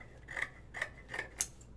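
Fabric scissors snip through cloth being cut out for a sewing project, four crisp, close cuts in a steady rhythm, with no other sound around them.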